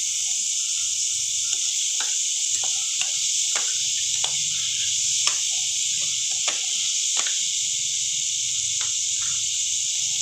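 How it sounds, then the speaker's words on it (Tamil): Onions and tomatoes sauté in a pan for soya biryani, giving a steady close hiss of frying with scattered clicks and taps of stirring throughout, no talking. "இது கொஞ்சம் ப்ரௌன் ஆகிற வரைக்கும் வதக்கிக்கலாம்"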